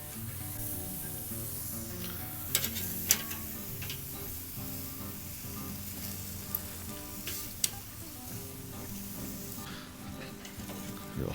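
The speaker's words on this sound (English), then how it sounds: "we will place some of our pineapple onto the grill" Pineapple slices grill with a quiet, steady sizzle broken by occasional small pops and ticks, heard close up with no talking.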